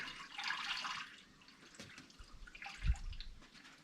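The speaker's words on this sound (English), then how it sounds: "Putting some fluids in." Coolant, a one-to-one mix of concentrate and water, pours into a car radiator with a soft, steady trickle and gurgle, punctuated by a brief louder splash near the end, close by with no talking.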